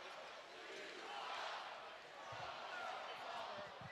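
A hockey arena crowd jeers and roars during an Icemen versus Stingrays game, a dense, sustained wash of voices heard from a distance with a few low thumps underneath.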